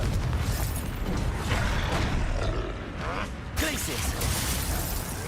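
A Confringo fire-blast spell explodes in the Hogwarts Legacy video game, a dense roaring burst of noise that fills the clip, with a shift to a fresh blast partway through over busy game sound.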